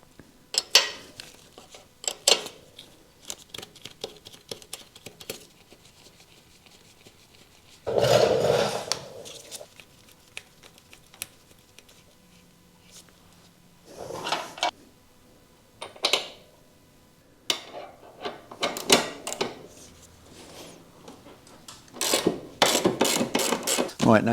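Tools clank and ratchet in bursts while a motorcycle chain is loosened, close metallic clicks and scrapes separated by quiet gaps.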